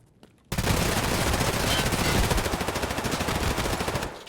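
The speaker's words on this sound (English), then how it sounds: "Notice how many shots this guy tanks with the helmet before I realize" Rapid gunfire in the shooter game Escape From Tarkov, with rounds striking and bouncing off a strong helmet; a dense, loud burst of shots begins abruptly after a brief quiet moment and continues almost unbroken.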